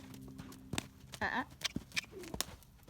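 Hoofbeats of a gaited horse cantering, a few uneven thuds close by, with a person speaking over them and a short vocal sound partway through.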